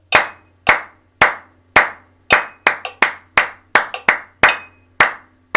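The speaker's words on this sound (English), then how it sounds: "After 4, clap away" Crisp, close hand claps during a music warm-up in B-flat major ring out sharply against a quiet background. Evenly spaced single claps give way to quicker triplet groupings in the middle before returning to steady beats.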